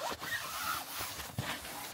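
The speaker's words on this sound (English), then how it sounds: "You can unzip it and zip." Zipper on a Quechua AIR inflatable two-bedroom camping tent, pulled in a few quick close-up rasping strokes, fairly quiet and heard alone.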